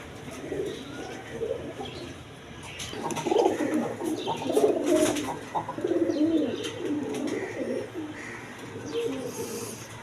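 A pair of Gola-type Rajgolla pigeons coo close by, a continuous throaty burbling that swells in the middle and then eases off, with light rustling behind and no voices.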